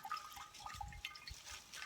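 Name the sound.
water dripping through a saturated double-layer cloth bag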